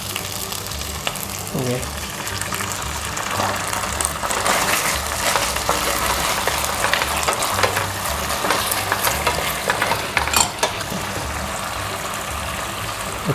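Sliced onions fry with oyster sauce in a hot pan, giving a steady, dense sizzle with scattered crackles and utensil scrapes throughout; a voice briefly speaks once near the start.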